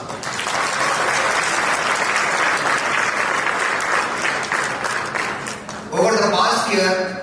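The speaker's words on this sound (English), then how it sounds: "Please give them a round of applause." A convention audience applauds steadily and loudly for several seconds, the clapping thinning briefly before a voice comes in over the tail of it.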